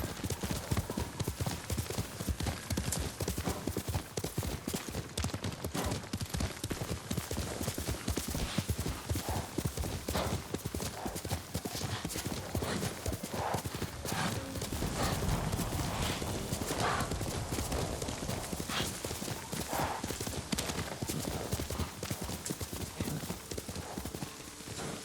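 The horse Kage gallops in Ghost of Tsushima, a dense, steady clip-clop of hooves at close range with an occasional whinny over a constant rushing background.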